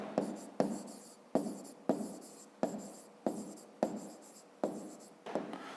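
A pen writes on paper while working a fifth-grade maths exercise: a steady series of short, crisp scratching strokes, each starting sharp and fading, close up and faint, with no talk.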